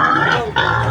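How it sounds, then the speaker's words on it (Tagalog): A pig cries out sharply while a buyer handles it during a livestock purchase, a loud close squeal and grunting that dips briefly midway before resuming. "Umiyak-yak pa yung baboy."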